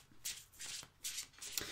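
A deck of tarot cards being shuffled by hand, giving three or four soft riffling bursts with brief pauses between them, close and fairly quiet with no voices.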